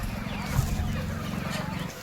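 Chickens let out of their coop on a farm, a crowd of low clucking and fowl chatter rising together in a steady close murmur throughout.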